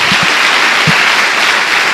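Church congregation applauding together in praise, a steady broadband wash of clapping filling the whole two seconds, loud and close, with a few low thumps mixed in.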